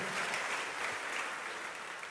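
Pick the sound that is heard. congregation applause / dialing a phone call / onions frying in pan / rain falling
congregation applause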